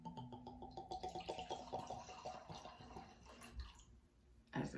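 Liquid poured out as an offering from a glass jar, a close trickling and bubbling pour with rhythmic glugs, ending in a brief splash, no talk.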